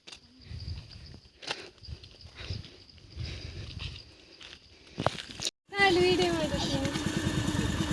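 A scooter ridden by a first-time learner: soft scuffs and shuffling give way to a sudden close engine start that keeps running loudly and steadily to the end.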